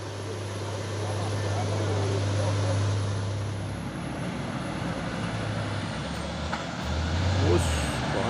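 A trailer truck drives past on an Indonesian road, a heavy low engine rumble swelling and fading over several seconds, with air-brake hiss and other traffic nearby.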